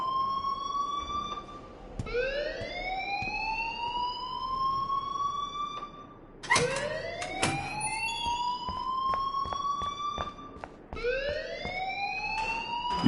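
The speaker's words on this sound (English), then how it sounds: "please turn off that alarm since that's your job." Alarm ringing in the video game Life is Strange, a loud electronic siren with repeated rising sweeps, each lasting about four seconds with brief gaps and clicks between, steady and alone with no talk.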